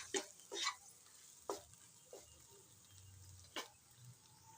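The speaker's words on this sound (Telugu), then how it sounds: "కొంచెం కరివేపాకు, మిగిలిపోయిన మసాలా అన్నిటినీ మంచిగా కలుపుకుందాము" Okra masala curry with curry leaves stirred in a pan: several separate scraping strokes against a soft background sizzle, close and fairly quiet.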